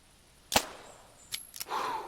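A single sharp gunshot cracks out at a turkey in the hunting game theHunter Classic, followed by a few softer clicks and a faint rising whistle, with no talking.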